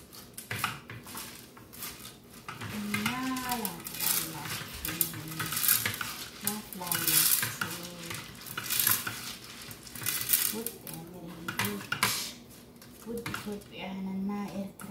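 Coffee beans roasting in an iron pan for Ethiopian coffee, stirred with a metal utensil that scrapes and clinks against the pan while the beans faintly sizzle, heard under a person talking.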